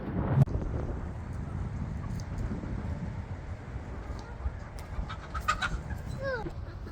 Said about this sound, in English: There was a chicken in there.